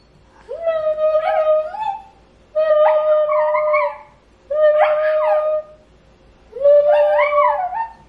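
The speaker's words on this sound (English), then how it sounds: "I think it's because Louie was howling, like watch." A pet dog howls in four long drawn-out wails separated by short pauses, loud and close, each rising and then wavering before it fades.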